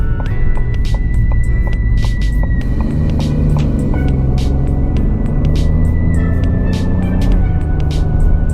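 A 2025 Ford Bronco Sport Big Bend with an 8-speed automatic accelerates from inside the cabin, its engine drone climbing steadily in pitch through the gears, loud and continuous, with faint rhythmic ticking above the engine.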